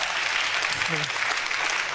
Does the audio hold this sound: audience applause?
yes